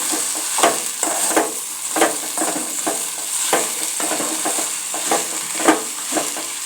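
Okra being stirred as it fries in a pan for a dry peanut-powder palya, with a steady sizzle broken by repeated scraping strokes of the spoon at an irregular rhythm, close and clear with no talking.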